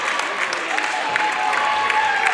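A crowd at a boys' varsity high school wrestling match applauds after a pin, a steady wash of clapping with cheering voices mixed in, sustained and fairly loud throughout.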